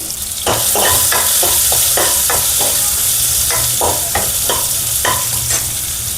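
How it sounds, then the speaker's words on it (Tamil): Loud, close sizzling of crushed garlic frying in hot oil, with repeated scraping strokes of a spoon stirring the pan. "நசுக்கி வச்ச பூண்டை நம்ம போட்டுட்டு ஒரு 2 வதக்கிப்போம்"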